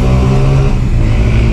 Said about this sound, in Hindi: आपकी मोटरसाइकिल की आवाज़ इतनी ज़्यादा